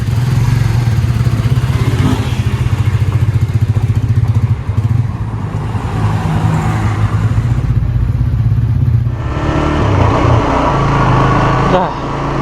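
Suzuki GSX-S 150 motorcycle engine running on the road, a loud, steady low drone with clattering and a shift in tone partway through, heard close throughout.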